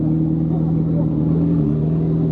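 A McLaren's 4-liter Cosworth engine idling loudly nearby, a deep steady rumbling drone with a throaty tone.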